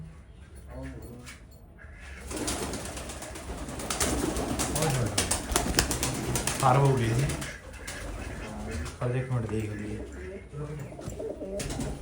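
Pigeons cooing on a farm, soft repeated coos under a man's nearby speech, with some rustling and handling noise.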